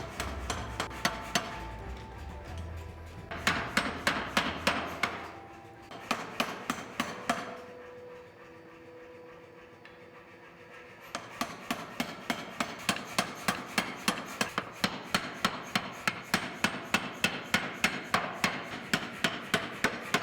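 A power hammer pounds a heated steel blade being forged into a large sword, fast rhythmic metallic blows in loud bursts separated by short pauses, then a long steady run of strikes toward the end.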